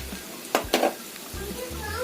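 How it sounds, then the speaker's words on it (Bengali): Gravy sizzling and frying in a pan, with a steady low hiss and two short bursts of stirring or scraping near the middle, fairly quiet. "1 মিনিট মতো এই গ্রেভিটাকে আমি ভেজে নিয়েছি"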